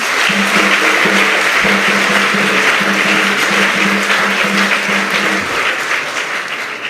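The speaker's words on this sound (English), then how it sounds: "Please, a hand of applause for them." Applause for a school garden group at a gardening launch event at a senior high school in Asuom, Ghana: a steady, dense clatter of many hands clapping, sustained for several seconds before tapering slightly at the end.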